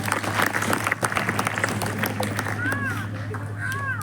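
An audience at a school gathering breaks into applause for a child's answer, a dense, moderate patter of clapping with faint voices and a few whistle-like tones mixed in.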